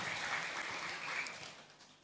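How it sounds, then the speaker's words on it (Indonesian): Women in an audience at a religious gathering clap together in a steady, dense burst of applause that fades slightly toward the end. "Tepuk tangan dah ibu-ibu nggih."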